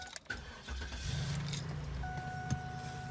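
A 2005 Cadillac DeVille starts up close by: a brief jingle and click, then the starter cranks and the engine catches into a steady idle with a faint warning chime.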